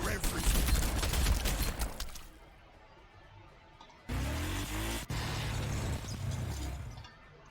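Units firing weapons in Warhammer 40,000: Sanctus Reach, a dense rattling volley of shots for the first two seconds, a quieter lull, then renewed loud firing with sharp cracks from about four seconds on.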